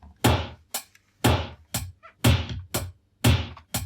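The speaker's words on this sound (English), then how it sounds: "if I tune that snare back down, we get something like this" A sampled snare drum, tuned down to a deep, thudding tone, hits in a repeating beat with lower kick-like thumps. The sharp, punchy strikes come about twice a second, with short gaps of silence between them.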